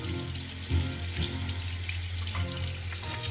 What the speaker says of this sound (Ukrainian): Включаємо воду, можна під душом і змиваємо ту мильну воду.